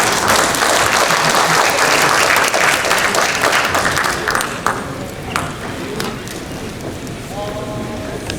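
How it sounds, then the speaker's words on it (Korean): A church seminar audience welcomes a pastor to the front with loud, sustained applause that tapers off into scattered claps, followed by a brief tonal ping near the end. "이만규 목사님 나오실 때 큰 박수로 맞이해 주시기 바랍니다"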